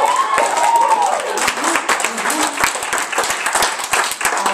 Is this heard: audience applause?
yes